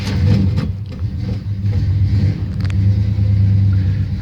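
A 1984 Chevy C10 Silverado pickup with a 305 V8 idles loud and close after a cold start, a deep, steady rumble with slight uneven wavering and a faint rev swell partway through.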